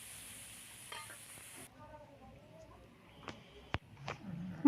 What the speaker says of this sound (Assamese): এনেদৰে পিঁয়াজ আৰু মছলাখিনি ভালদৰে ভাজি ল'লোঁ।